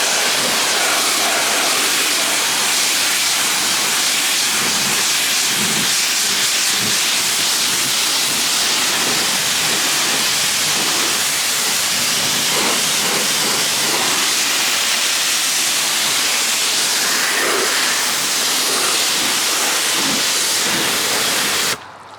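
Loud, steady hiss of a pressure washer spraying van paintwork, close up and continuous without a break, with small surges in the spray noise.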